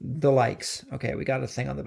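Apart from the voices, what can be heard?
No everyday noise stands out behind the speech.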